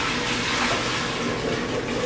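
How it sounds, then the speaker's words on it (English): Chicken stock pours steadily into a stock pot, a continuous splashing rush of liquid with no pauses, fairly close and moderately loud. "We're going to pour it right back in to our stock pot."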